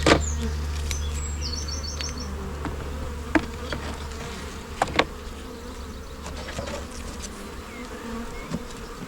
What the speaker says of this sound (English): Right, definitely more bees in this side.